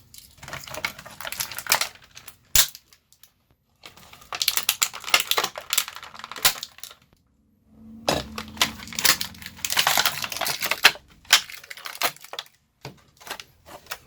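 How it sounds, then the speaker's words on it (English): Pocket knife cutting the bonds on a toy, giving crisp snipping, crinkling and tearing bursts in several clusters with short pauses between, close up and fairly loud, no voices. "Get out the trusty pocket knife. Cut his bonds."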